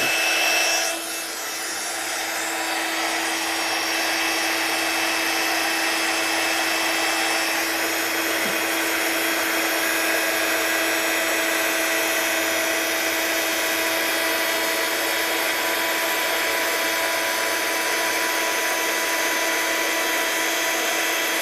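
A handheld heat tool blows hot air to heat-set paint, giving a loud, continuous whooshing roar with a steady high whine that runs unbroken for the whole stretch.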